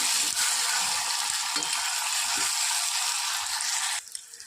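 Finely chopped tomato frying in a pan gives a loud, steady, close sizzle that runs without a break and then drops away sharply near the end.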